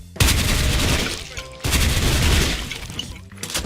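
An M4A1 SOPMOD rifle in Special Force 2 fires two loud, close automatic bursts of about a second each, separated by a brief gap, with a faint tail of shots at the end.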